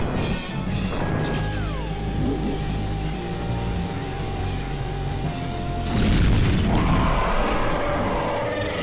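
Loud crashing explosions in Luigi's Mansion on the 3DS during a final boss fight, a booming blast landing heavily over game tones and a sliding electronic whine, with rumbling debris afterward.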